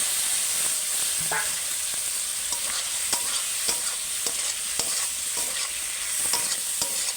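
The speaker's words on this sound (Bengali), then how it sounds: "এবার আমি হচ্ছে সবজিটা তুলে দেবো দিয়ে ভালো করে কষে নেবো" Vegetables such as potato, kohlrabi and raw tomato are stir-fried in a cooked spice paste in a pan, giving a steady close sizzle broken by repeated scraping clicks of a spatula over about seven seconds.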